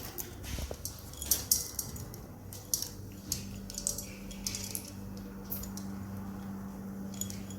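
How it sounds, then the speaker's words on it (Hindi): Four magaz seeds dropped into a pan of hot desi ghee beside already fried peanuts, giving soft scattered ticks and light sizzling pops over a steady low hum, close and fairly quiet. "अब मैं इसमें 4 मगज़ डालूँगी"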